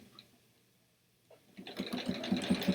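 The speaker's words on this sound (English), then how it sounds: "So I think I'm just going to keep sewing all of them while we're talking." A sewing machine starts up after a quiet pause and runs steadily, stitching quilt pieces with a close, rapid mechanical whir that grows louder toward the end.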